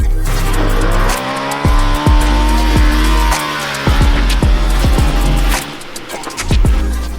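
A Ducati Multistrada 1260 Enduro motorcycle roars up close as it pulls a wheelie, its engine revving hard in repeated surges and drops with a sharp, rising whine on each burst of throttle.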